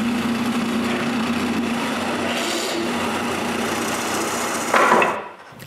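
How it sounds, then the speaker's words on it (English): A steady, whining power drill runs continuously, drilling holes in wood for a bathroom towel cabinet, with a brief louder burst near the end before it winds down. "I need to drill some holes so I can screw it in place."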